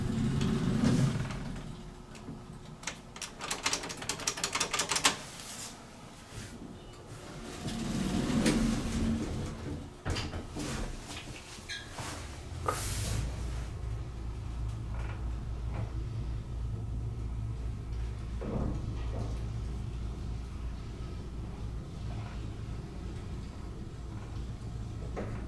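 A vintage Leclerc hydraulic elevator at a hotel in Quebec City rides with its doors working: clunks and sliding door movements early, then a steady low rumble of the car travelling, close and continuous, with no talking.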